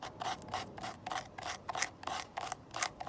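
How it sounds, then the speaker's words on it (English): Homemade chalk is rubbed across serrated edges in a quick series of about ten rhythmic rasping strokes, close and fairly quiet, with no voices. "Just rubbing it on the serrations, you can see"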